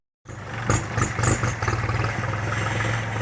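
A tractor engine starts up and runs with a steady low-pitched chug and a rhythmic pulsing, close by and fairly loud, with no talk over it.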